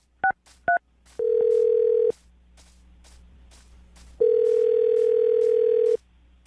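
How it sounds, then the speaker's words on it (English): During a radio show call, two quick keypad tone beeps are followed by a steady telephone tone held about a second, then a pause with faint background noise, then the same steady tone again for nearly two seconds. "I'm going to dial the phone number right now"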